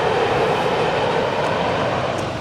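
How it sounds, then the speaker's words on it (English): A northbound Union Pacific freight train pulls away on the Austin Subdivision with a loud, steady rumble and roar of rolling cars and wheels. The sound holds continuous and close throughout, with no voices. "the northbound manifest was already preparing to depart North Sneed"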